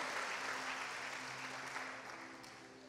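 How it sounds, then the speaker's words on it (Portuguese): A church congregation applauds in a steady, dense wash of clapping that holds throughout at a moderate, slightly distant level, with a faint sustained tone underneath. "Dá um aplauso para Jesus aí, irmão"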